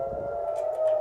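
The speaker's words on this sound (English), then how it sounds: "Sirens have been blaring across Israel as the country warns its citizens to prepare for retaliatory attacks." An air raid siren sounds in Israel, a single steady, loud civil defense wail that holds one pitch for the whole second without rising or falling.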